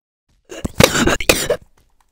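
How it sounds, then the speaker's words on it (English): A couple of short, harsh coughs close to the mic, bursting out in quick succession with a rough, throaty edge. "I think I'm about to cough again"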